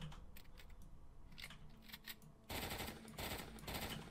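An AEGIS G14 6B Mark 3 assault rifle fires in a video game, starting with clicky, spaced mechanical shots and then breaking into a louder, faster automatic burst.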